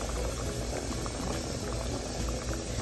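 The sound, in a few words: peas boiling in pot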